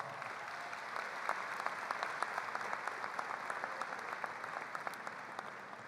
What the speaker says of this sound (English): Class of 2022, please give your parents a round of applause